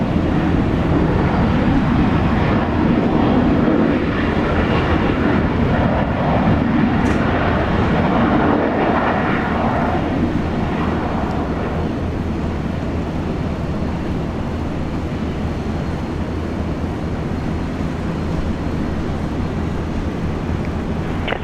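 Jetstar airliner landing on runway 19 left at Brisbane International Airport, a steady broad roar of engines and wind that stays loud throughout with no talk.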